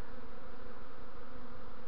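Dense, steady buzzing of a bee swarm with young queens clustered in a hollow linden trunk and low over the ground, continuous and close with no pauses.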